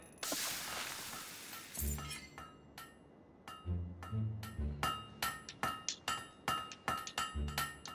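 A blacksmith hammers a blade at a forge in Fable III, a run of sharp metallic clinks in an uneven rhythm, loud and close, after a bright crash at the start, with a deeper thump mixed in midway.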